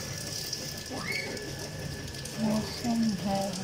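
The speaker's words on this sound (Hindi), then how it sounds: "बारिश हो रही है अभी तक।" Steady rain falling outdoors in rainy weather, a constant dense hiss of drops on surfaces throughout, moderately loud, with people talking faintly over it.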